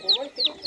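Chickens kept alongside goats in a small tribal village give quick, close clucks, three short calls in rapid succession.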